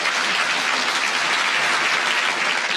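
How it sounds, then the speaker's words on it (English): A studio audience at a 1972 radio panel game applauds in a dense, steady round of clapping, with no talking. "I'm glad that got the spontaneous round of applause we all expected"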